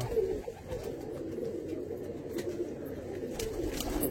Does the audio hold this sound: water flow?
no